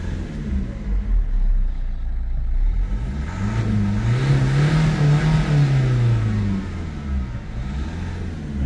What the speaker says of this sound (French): donc je vais accélérer.